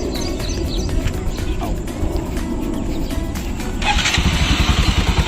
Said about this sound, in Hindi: ये मेरी बाइक का स्टॉक एग्जॉस्ट है